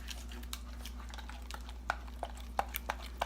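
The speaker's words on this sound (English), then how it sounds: "Stir this up before adding the almond milk or coconut cream" A spoon stirs MCT oil into homemade keto ranch dressing, giving soft scattered clinks and taps, some sharper near the end, over a steady low hum.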